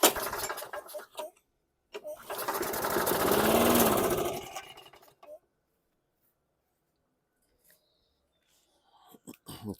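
A junk lawn mower engine catches with a sputtering roar that swells and fades over a few seconds, then stalls into silence, with brief clanks before and after.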